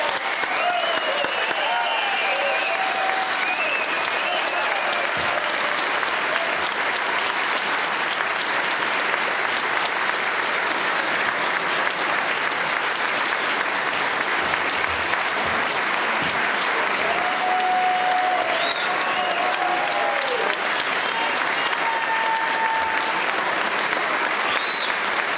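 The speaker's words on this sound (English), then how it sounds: "we could give Dick a big round of applause" An audience at a screening honoring a 10th Mountain Division veteran breaks into loud, sustained applause that carries on steadily for the whole stretch, with occasional faint whistles and voices mixed in.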